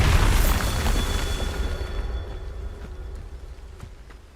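A Bombarda spell explodes in Hogwarts Legacy: a single loud boom bursts at the start, then its rumbling tail slowly decays over several seconds with faint crackles.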